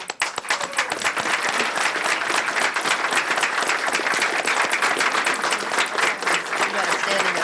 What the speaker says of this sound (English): You got a standing ovation, young lady.